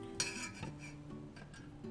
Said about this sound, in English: So why do you have to whisk?